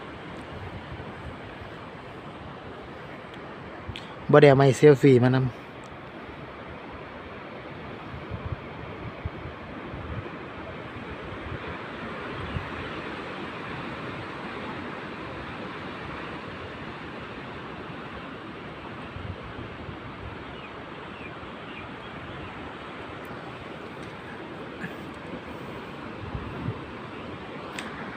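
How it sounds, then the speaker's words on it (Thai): Sea waves and wind at Patong beach, a constant broad wash of surf and breeze with wind buffeting the microphone, and a brief spoken remark near the start. "ฟังเสียงคลื่นเสียงลม"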